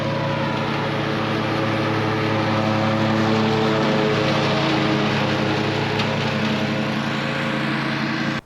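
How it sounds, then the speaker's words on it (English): Toro TimeCutter zero-turn riding mower mowing a home lawn, its engine droning loud and steady throughout with no talk, cutting off abruptly at the end. "So you are set to ride the Toro Time Cutter here at home to"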